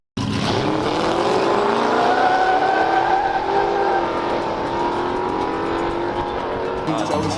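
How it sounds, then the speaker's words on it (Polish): Drift race cars at a large car meet in Chojna, with engines revving hard in a loud, sustained roar that rises and falls as they pass, and tyres squealing. "Dobra, będziemy oglądać wyścig Toretto. Amerykańskiej klasy 3."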